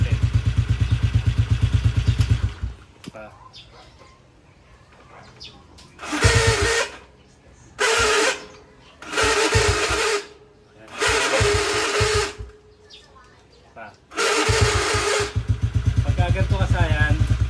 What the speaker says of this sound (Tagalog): Magaspang siya kasayan ha. Pero gumagana pa naman yung starter natin.